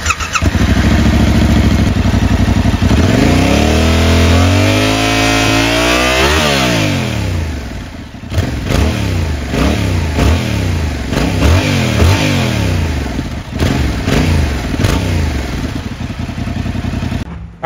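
A 2024 Yamaha R7 motorcycle exhaust, loud and close, idling and then climbing through a long rising rev, followed by a run of quick repeated throttle blips that rise and fall.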